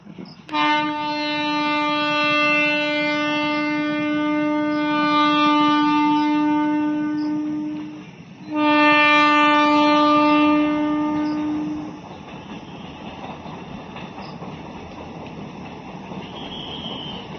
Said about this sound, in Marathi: चालली होती इथून रेल्वे